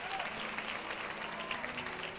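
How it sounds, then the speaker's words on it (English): Steady applause from a pageant audience for five finalists at the Miss Michigan USA contest, a dense, even patter of many hands clapping continuously with faint crowd murmur beneath. "Let's give them a nice warm round of applause,"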